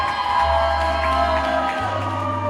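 A wedding crowd cheers and applauds loudly and continuously, a dense wash of voices and clapping over a steady low hum.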